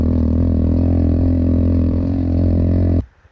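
A small motorcycle carrying two riders on a rough mountain road toward Cayambe volcano in Ecuador, its engine droning loudly and steadily up close before cutting off abruptly near the end.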